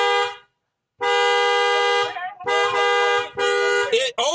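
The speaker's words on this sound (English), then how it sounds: "No, I'm honking at the bear trying to keep it away." A car horn honked repeatedly to scare off a bear raiding a garage refrigerator: long, loud sustained blasts separated by short gaps, close and dominant.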